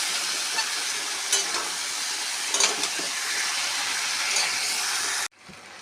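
Chopped tomatoes and fried pointed gourd sizzling and hissing steadily in a hot pan during stir-frying, with occasional scraping stir strokes, close and continuous, before cutting off abruptly near the end.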